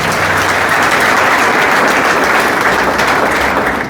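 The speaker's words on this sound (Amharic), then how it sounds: "አጨብጭቡ ለእግዚአብሔር ክብር።" Congregation applauding during an Ethiopian church prophecy service: loud, dense, sustained clapping from a large crowd, continuous and close, with no speech over it.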